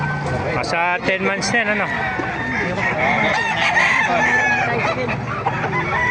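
Gilmore gamefowl roosters at a busy chicken market in Bocaue, Bulacan, crowing and clucking loudly among the crowd, with overlapping calls under close, continuous talk from several people.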